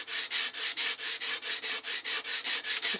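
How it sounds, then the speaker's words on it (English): A pastel pencil is held almost flat and rubbed back and forth on sandpaper to sharpen it into a chisel point, making loud, close, steady rasping strokes in an even rhythm of about four per second. "I held the pencil almost horizontal to the sandpaper, and I just go back and forth on the same spot like that"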